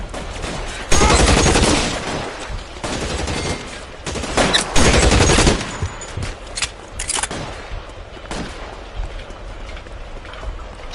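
Loud, close bursts of gunfire from a shootout in the video game L.A. Noire, with dense volleys and rapid shots in heavy clusters, then sparser cracks trailing off toward the end.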